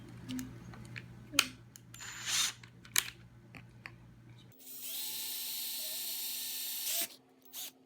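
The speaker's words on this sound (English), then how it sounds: "I'm drilling through the center of a teddy bear's head" A power drill whines steadily for a few seconds after some clattering handling noises, drilling through the center of a teddy bear's head at an even pitch before stopping abruptly.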